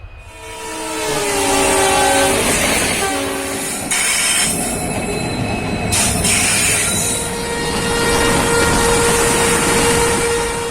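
Locomotive of the Shalimar Express on the Jaisalmer to Jaipur run sounds a long, loud multi-tone horn at a station, followed by sustained rumbling and squealing train noise.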